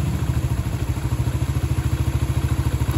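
Yamaha Vega ZR motorcycle engine running rough with a whining, droning note, a fast regular pulsing clatter steady and close throughout, no voices.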